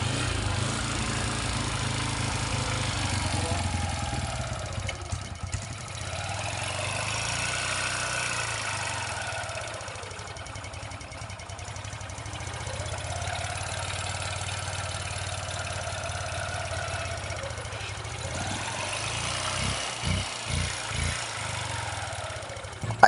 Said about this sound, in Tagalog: Ang problema nga pala nito ay umiingay daw yung makina